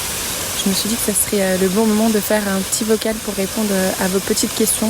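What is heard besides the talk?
waterfall rushing in Minca, Colombia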